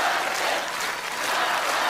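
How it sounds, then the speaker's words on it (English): An audience cheers and claps continuously at a live singing performance, a dense, steady wash of applause and crowd noise filling the whole moment. "They're cheering."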